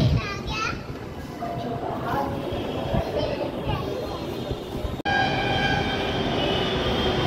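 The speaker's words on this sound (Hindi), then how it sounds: "ये आ गई हमारी मेट्रो।" A metro train rolls into the station with rumbling and squealing metal while children and other people chatter nearby.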